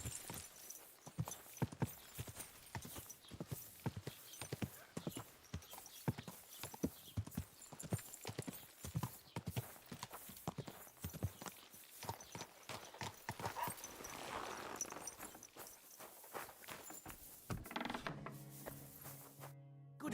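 Horse hooves clip-clop in a steady walking rhythm in the game Kingdom Come: Deliverance II, close and fairly faint, ending with brief mechanical clicking.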